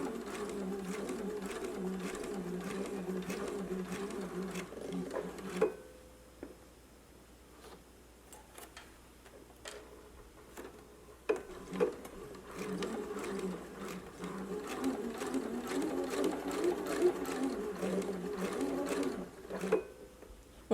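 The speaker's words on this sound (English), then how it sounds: "Let's begin stitching now." Sewing machine stitching a double pointed dart in fabric, a steady close whirring run that stops briefly midway, then resumes with a few uneven bursts and light mechanical clicks.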